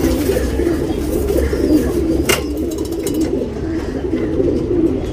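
A tournament racing pigeon coos close by in a steady, repeated low purring rhythm, with a sharp brief knock midway and faint background noise.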